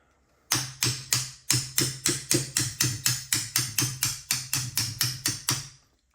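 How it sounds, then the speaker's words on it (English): A hammer taps out a trigger pin from a Black Aces bullpup shotgun trigger assembly, about twenty sharp, evenly spaced metallic blows in a steady rapid rhythm, close and loud, with no talking. "You will need a hammer to tap this out."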